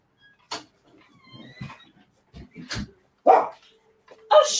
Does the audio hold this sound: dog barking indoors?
yes